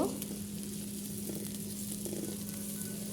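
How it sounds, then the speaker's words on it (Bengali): Whole spices and cumin seeds frying in hot oil with browned onion, a steady, even sizzle holding at moderate level for the whole stretch, with a low constant hum beneath and no talking. "এখন দিয়ে দিব আস্ত কিছু মশলা এবং জিরে দিয়ে সুন্দর একটা ফ্লেভার আসার আগ পর্যন্ত ভেজে নিব"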